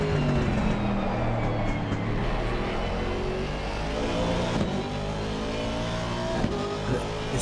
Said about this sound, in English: you can just hear the Aston doesn't pick up out of these slow corners as well as the Ferrari does, and that's where Mamid has gained a bit